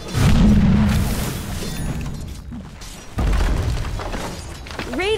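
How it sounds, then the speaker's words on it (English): A Dota 2 tower being destroyed: a heavy booming crash with shattering debris, followed by a second rumbling collapse and a rising whistling tone near the end. "Radiant's bottom tower has fallen."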